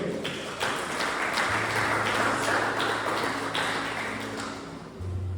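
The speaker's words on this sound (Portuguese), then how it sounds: "Você pode aplaudir o Senhor?" Church congregation clapping together in praise, a steady dense patter of many hands filling the room, with tonal worship music or organ sustained underneath.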